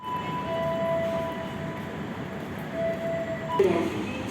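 The Fajar Utama Yogya passenger train gives off a steady interior rumble at a station stop, with thin high tonal whines running through it and a short squeal and clatter near the end.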